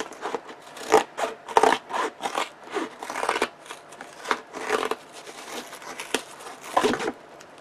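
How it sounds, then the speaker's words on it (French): Scissors snipping through the packaging of a book parcel in a series of irregular, crisp cuts and rasping scrapes, close up, with short pauses between strokes. "on va ressortir la super paire de ciseaux"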